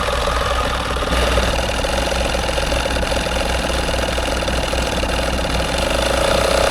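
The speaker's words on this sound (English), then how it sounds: "Just pumping the tyre up on the Qashqai, and the old tyre pump's about to, oh god, about to give up I think." An old, struggling tyre pump drones and vibrates continuously and close up while inflating the tyre of a Nissan Qashqai, with a steady mechanical hum throughout.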